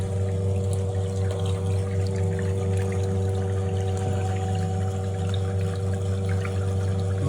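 Water pours steadily and continuously from a basement-drilled Abyssinian borehole well, with a constant low mechanical hum running underneath the whole time.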